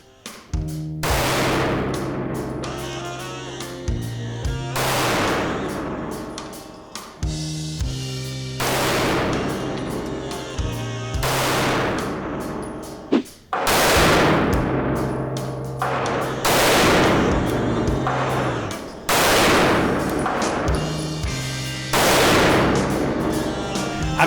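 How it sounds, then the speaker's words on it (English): A SIG 365 pistol fires 9mm V-Crown and ball ammunition at a range, about eight loud, close shots spaced a few seconds apart, each with a sharp crack and echoing tail. "So we're going to throw a few rounds down range, see how it works."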